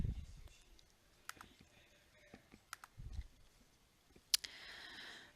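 Sparse computer mouse clicks while opening a file in software on a computer, isolated sharp clicks scattered over quiet room tone, with a faint voice near the start.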